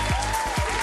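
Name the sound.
audience applause for the sponsors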